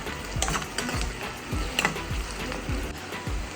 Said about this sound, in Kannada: ಸ್ವಲ್ಪ ಗೋಲ್ಡಿಶ್ ಕಲರ್ ಬರೋ ತನಕ ಫ್ರೈ ಮಾಡ್ಕೊತೀನಿ.